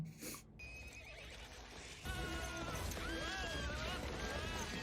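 Horses neighing and whinnying in the Prince of Egypt movie soundtrack, several shrill rising-and-falling calls over dense orchestral music and rumbling commotion, the scene swelling louder partway through.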